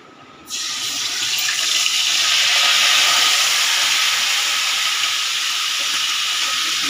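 Chicken pieces dropped into a pan of deeply browned fried onions for chicken biryani, bursting into a loud, steady broad hiss that starts abruptly and holds strong without pause, no voices present.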